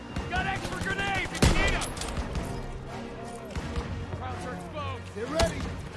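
Suppressive gunfire in the WWII shooter Call of Duty WWII: sharp, loud gunshot cracks ring out at intervals, with scattered distant shots between them, heard under shouted battlefield voices and rumbling combat noise.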